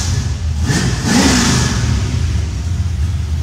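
An old car engine revs loudly and close, a deep rumbling roar that rises in a quick burst, then settles into a steady throaty run.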